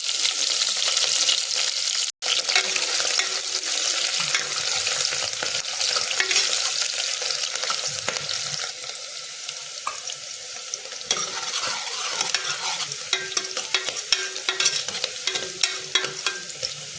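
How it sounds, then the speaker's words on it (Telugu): Onion and green chillies sizzle loudly in hot oil for a tempering before bottle gourd and moong dal are added, a dense steady crackle with occasional stirring scrapes and no speech. "సరిపడా ఉల్లిగడ్డ, ఒక 2 పచ్చిమిర్చి కడిగి చేసిన, అవి ఇప్పుడు తాలింపుకి వేసుకుందాం."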